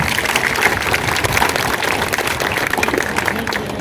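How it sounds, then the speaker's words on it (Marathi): A large crowd at a Buddha Jayanti gathering in Rahatani-Pimple claps in welcome, a loud, dense and unbroken wash of applause that holds steady from start to finish. "आपण सुद्धा आपल्या स्वतःसाठीच टाळ्या वाजवून स्वागत करायचं"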